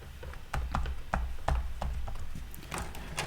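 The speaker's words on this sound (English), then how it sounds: "I can hear this clicking through the microphone" Sharp repeated clicks from a 1990 Boss Dr Rhythm DR-550 drum machine, picked up through a microphone, tick at irregular intervals over a steady low hum.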